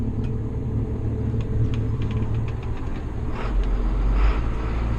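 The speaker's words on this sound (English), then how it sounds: "And there's our baler." A hay baler runs behind a John Deere 7810 tractor fitted with duals, producing a steady low engine rumble with faint rhythmic mechanical clicks and a heavier surge near the end.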